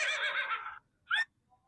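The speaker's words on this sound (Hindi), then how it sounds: "ट्यून भी घोड़े की रखी है" A horse neighing ringtone plays on a phone, a long bright whinny followed by a short second neigh, loud and close with no talk.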